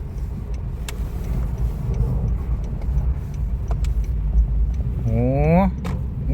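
A Honda Fit GP5 hums along on a test drive with steady road and engine noise, and a rising whine near the end as it pulls away. Voices talk inside the car.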